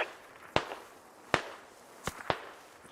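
Rifle shots ring out during a military shooter match in Squad, four sharp separate cracks at uneven intervals against a quiet background.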